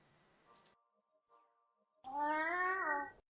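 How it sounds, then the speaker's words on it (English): A maned duck gives a single drawn-out nasal call that sounds like a cat's meow, loud and close, after a few faint ticking sounds and near silence. "There's a duck called the maned duck. And it makes a sound which sounds like a cat for some reason."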